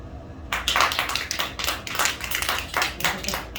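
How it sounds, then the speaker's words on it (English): Scattered applause from a small comedy-show audience in a nearly empty bar, a sparse burst of claps starting after a brief pause and continuing unevenly, close and fairly loud. "round of applause if you've done mushrooms"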